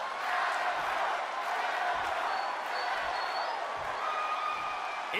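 A large video game crowd roars continuously at a distance, a dense, steady wash of cheering with no pauses, in WWE 2K20 before a wrestling match.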